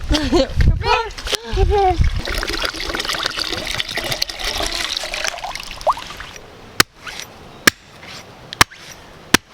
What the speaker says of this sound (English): Okay, Scott, you ready to pour it?